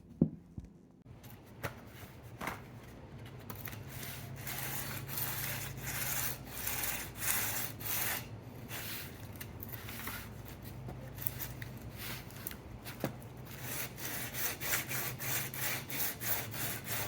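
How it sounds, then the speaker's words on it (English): Sanding a guitar fret on a Telecaster build with fretwire, giving a steady close-up rasping rub in repeated strokes that runs nearly continuously with brief pauses. "So you're going to sand a little bit on this side, a little bit on this side"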